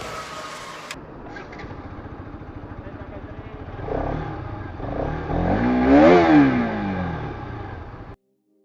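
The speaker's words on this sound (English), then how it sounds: "The exhaust note is sweet and the engine tuning has gotten a bit more linear." Bajaj Pulsar RS200 BS6 motorcycle engine on a test ride, starting with a burst, then a steady idle-like thrum that swells into loud revving with a rising and falling pitch sweep, close and unaccompanied by talk.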